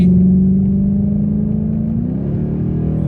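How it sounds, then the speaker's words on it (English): A Dodge Challenger R/T, a big muscle car, pulls hard under acceleration: a loud, steady engine roar climbs in pitch through the revs and stays close and up front, with no talking. "time for a little pull in the Challenger RT"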